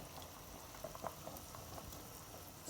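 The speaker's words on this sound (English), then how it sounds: "It's already boiling." A covered pot of okro soup on the boil, a steady low bubbling and hiss with a few soft pops, close by and fairly quiet, no talking.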